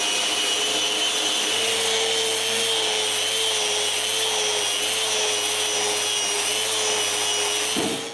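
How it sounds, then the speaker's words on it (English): Wooden frames being sanded to remove dried excess glue, a steady broadband abrasive whir running continuously and close by for about eight seconds, with a faint low hum underneath, stopping at the end. "The next day, I sand the excess glue."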